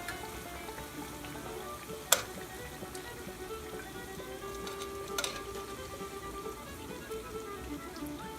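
Morel mushrooms fry in a skillet of hot grease with a soft, steady sizzle that runs throughout, broken by a couple of brief sharp pops and crackles.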